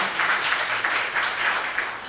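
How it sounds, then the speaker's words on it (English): Audience applause for bassist Melvin Wong, a steady wash of many hands clapping at moderate loudness, continuous throughout with gentle surges and no voices over it. "Big round of applause."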